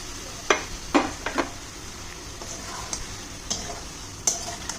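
Fried chicken pieces going into a pan for a Gandharaj chicken dish, a soft low sizzle punctuated by several sharp clinks and taps of a utensil against the pan, close and fairly quiet.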